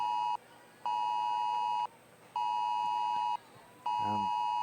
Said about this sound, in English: We have a Amber Alert going across our phone, so our communications device.